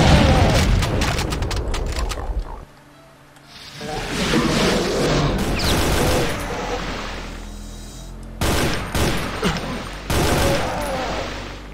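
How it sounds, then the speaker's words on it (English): Bursts of assault rifle fire in Brutal Doom, loud and close, arriving in several rapid volleys separated by short gaps, with booming impacts and mechanical clatter between them. "I'll have to switch over to the assault rifle then."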